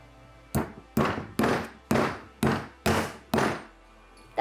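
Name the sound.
hammering in a nail anchor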